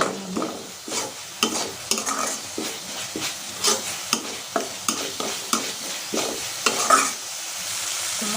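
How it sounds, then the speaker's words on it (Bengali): Ground and powdered meat spices fry in a pan while a spoon stirs them in regular scraping strokes over a steady sizzle, close and clear with no talking. "এবারে মশলাটা কষিয়ে নেব।"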